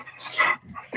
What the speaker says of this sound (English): But you can hear the dogs.